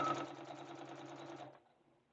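A sewing machine stitches fabric in a quick, rapid-fire run of needle strokes, faint and close, lasting about a second and a half before winding down.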